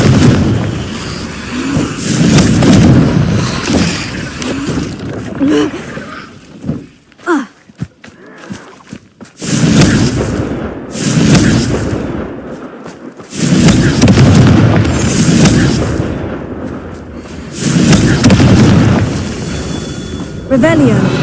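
Repeated fiery spell blasts from the Hogwarts Legacy video game: loud booming explosions with crackling bursts, several in succession separated by brief quieter gaps, while a man casts spells aloud.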